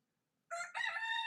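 A single rooster crows once, close and loud, starting after a moment of silence and holding its call to the end, with no voices over it.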